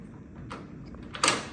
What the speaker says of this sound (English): if you want more privacy, we can always close this door